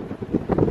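Strong night wind gusts against a tent at a campsite, a loud, continuous rushing roar that builds toward the end, with no voices.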